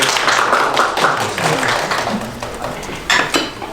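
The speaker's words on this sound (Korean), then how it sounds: "큰 박수 부탁드리겠습니다." Applause from a seminar audience welcoming a speaker forms a dense, steady patter of clapping for a few seconds, fairly loud and continuous, with a slight swell near the end.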